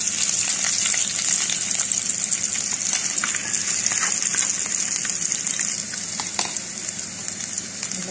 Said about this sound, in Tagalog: Pusahin na natin ang garlic. Add na natin ang onion.